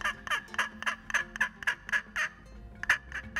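Wild turkey gobbles in a rapid rattling series of about a dozen bursts, close and loud, with no talk over them.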